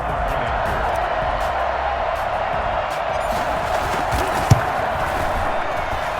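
A stadium crowd roars steadily in Madden 21 during a Jaguars versus Jets Super Bowl, a dense wash of cheering behind a commentator's voice, with one sharp thud near the end.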